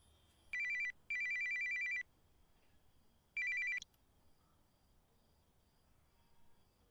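A phone rings with an incoming call, three bursts of an electronic trilling ringtone, the middle one longest, separated by short gaps, then quiet.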